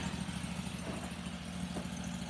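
A Harbor Freight Predator V-twin engine runs at full throttle, giving a loud, steady, dense drone close by. It holds an even pulsing rumble the whole time, with no talk.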